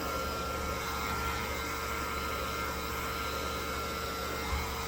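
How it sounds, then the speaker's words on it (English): A vacuum cleaner suctions loose hair while a rabbit is being groomed and trimmed, giving a steady, loud whooshing drone that runs unbroken throughout with no talking. "I just sucks the hair right into the vacuum so I don't have to worry about it"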